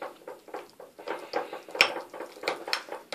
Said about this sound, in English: I'm just going to add a little bit more oil. And give it a stir.